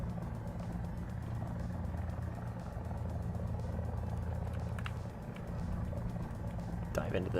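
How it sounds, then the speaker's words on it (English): An enemy helicopter in War Thunder makes a steady rotor and turbine drone, fairly faint and continuous, heard from inside a vehicle with a few clicks and a brief voice near the end. "Heli, enemy heli."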